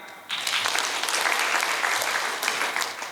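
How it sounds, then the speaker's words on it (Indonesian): Audience at a national village-government training event breaks into applause, sudden and dense clapping from a seated crowd that starts sharply and stays full and steady for about three seconds. "Tepuk tangan."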